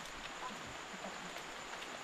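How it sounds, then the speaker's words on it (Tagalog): Steady rain falling outdoors, a soft continuous hiss with faint scattered drop patter at low level, no voices. "Dito kami naabutan ng ulan."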